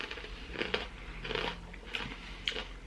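Crisp crunching bites of honeycomb, several in an irregular rhythm, close to the mouth with no talking.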